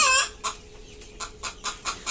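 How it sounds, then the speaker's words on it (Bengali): Several short, soft clucks repeat irregularly from nearby native (deshi) chicken chicks, with a brief higher call at the start and quiet pauses between. "এই হচ্ছে মুরগির বাচ্চা"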